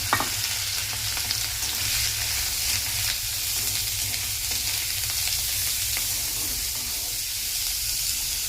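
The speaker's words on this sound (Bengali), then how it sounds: "সর্ষে আর কারি পাতা ফোড়ন দিয়ে দিলাম। এবার দেখো পেঁয়াজ কুচি আর কাঁচা লঙ্কাটা দিয়ে দেবো।" Mustard seeds, curry leaves, chopped onion and green chilli fry in hot oil with a loud, continuous close sizzle and crackle, steady throughout with faint stirring underneath and no talk.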